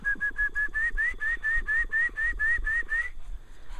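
A person whistles a rapid series of about a dozen short, rising notes to call a dog outdoors, evenly paced and fairly close, ending abruptly.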